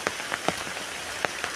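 Rain falls during the wet season in the provinces while people gather firewood, a soft hiss with scattered sharp drops tapping nearby at irregular intervals, quiet and with no talking.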